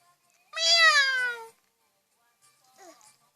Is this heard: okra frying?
no